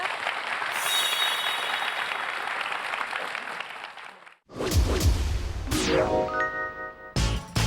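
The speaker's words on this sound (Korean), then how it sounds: "새로 하시는 사업 잘 되라고 박수 한번 쳐드릴까요?" A studio audience applauds steadily for a few seconds, then stops abruptly. Bright jingling chimes and swooshing effects follow.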